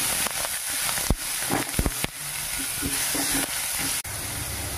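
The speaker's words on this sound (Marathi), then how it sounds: "कढीपत्ता टाकून घेऊ, हिरवी मिरची आणि लसूणची पेस्ट टाकून घ्यायची।" Curry leaves, green chilli and garlic paste crackle in hot oil for kadhi, a constant loud sizzle broken by sharp pops and spatters, with a few stirring knocks.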